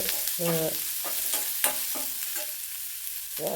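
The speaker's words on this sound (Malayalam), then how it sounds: "ഇനി ഇതെല്ലാം കൂടെ ഒന്ന് മൂത്ത് വരട്ടെ" Onions and torn curry leaves sizzling and being stirred in a pan for carrot thoran, a steady close frying hiss with scraping stir strokes and light clinks, no voices.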